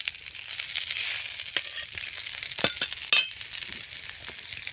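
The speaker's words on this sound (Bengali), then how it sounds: "দেখতে পাচ্ছ কড়াইতে মাছটা আমি ভালো করে ভেজে নিচ্ছি" Fish tail pieces frying in hot oil in a kadai, a steady close sizzle with occasional clinks of a utensil against the pan.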